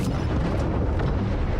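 Deep, rumbling booms of enemy torpedo fire striking a submarine in Diluvion, a continuous loud low roar of impacts with no voices.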